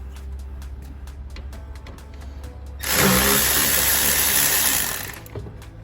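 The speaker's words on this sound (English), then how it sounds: "So I'm gonna go ahead and loosen the clamps." A power tool loosens intake tube clamps on a Chevy Silverado 2500HD Duramax, giving a loud whirring burst of about two seconds after a run of quieter rhythmic ticking.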